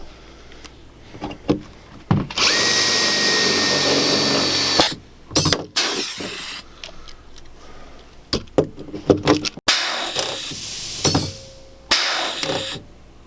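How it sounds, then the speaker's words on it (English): Power rivet tool setting rivets into the sheet metal of a wiring chase in a Mercedes Sprinter 170 van, loud whirring bursts of two to three seconds separated by clanks and handling noise, close and without talk. "With the front indexed, we'll go ahead and set our rivets."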